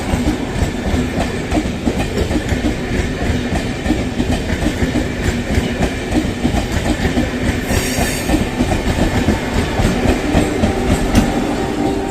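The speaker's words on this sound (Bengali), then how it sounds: "হ্যাঁ দেখো ট্রেন পেরোচ্ছে" A train rolls past a level crossing near Amodpur Junction on the Andal–Sainthia line, heard from a waiting bus: a loud, continuous rumble with rhythmic clickety-clack of wheels over rail joints throughout.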